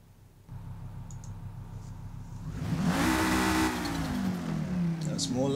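A 1997 Volvo 850 R with an inline-five engine in the Forza Motorsport racing game idles quietly, then revs up and holds a loud, rising and falling engine note, with a few clicks.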